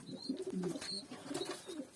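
Soft pigeon coos repeat in a low, warbling rhythm, fairly quiet and close, with a faint higher chirp in the background.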